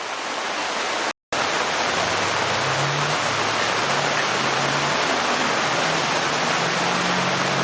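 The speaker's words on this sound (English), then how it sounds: "It's still coming down, and the amount of rain that we have" Heavy rain pouring steadily outdoors at an outdoor music event in Durham, North Carolina, a loud dense wash of noise that cuts out for an instant and then resumes, with a low hum beneath.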